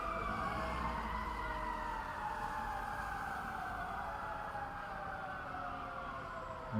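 Ambulance and emergency vehicle sirens sound through a St. Patrick's Day parade, a continuous gliding wail that slowly falls in pitch, steady and moderately distant over low street rumble.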